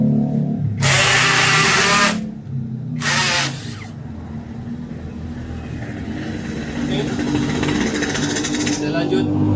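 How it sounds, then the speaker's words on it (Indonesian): A 30 mm Ryu Forstner drill bit bores into a workpiece with two loud, grinding drill bursts separated by a short pause, followed by a lower steady motor hum. "saya menggunakan mata bor Forstner Beat produk dari Ryu. ukuran 30 mm."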